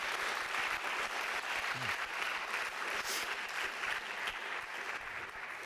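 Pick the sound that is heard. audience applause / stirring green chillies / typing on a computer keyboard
audience applause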